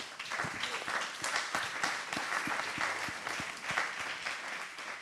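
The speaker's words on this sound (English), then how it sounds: "Let's give a round of applause to our speakers." Audience applause after speakers at an environmental history conference, a steady dense wash of many hands clapping at moderate loudness, sustained throughout with no talk over it.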